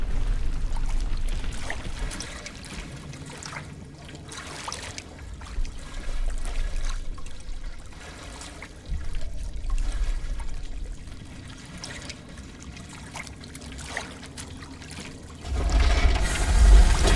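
Underwater ambience in Call of Duty Advanced Warfare: a murky, low rumbling wash with trickling and bubbling swells that rise and fall, ending in a louder surge.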